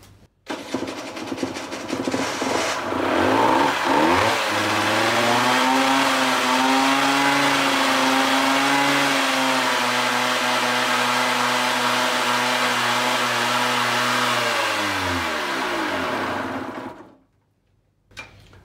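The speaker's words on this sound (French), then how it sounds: "tu démarres la moto et tu la fais aller aux alentours de 3000 tours" A motorcycle engine starts and holds a steady idle around 3000 rpm during a charging circuit test, with a droning harmonic tone, running continuously up close before cutting off near the end.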